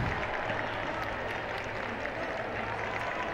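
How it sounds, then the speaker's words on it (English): Parents applaud steadily at an under-13 schools' football cup match, a continuous wash of clapping from spectators at a moderate distance, with no clear break. "And you can hear the parents applauding in the background."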